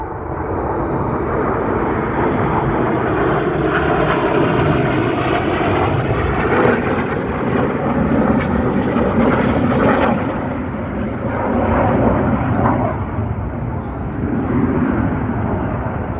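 Red Arrows jets flying in formation at an RAF Cosford air display, a loud continuous roaring rumble that stays steady throughout, with a faint commentary voice underneath.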